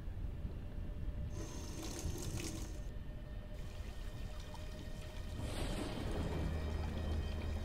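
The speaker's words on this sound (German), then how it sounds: "Dann könnten wir das Wasser aufdrehen, dann läuft Wasser." Water gushes steadily from a tap into a bathtub in the video game Black Mirror 2, a continuous close splashing rush with a few brief tonal shifts and no talking.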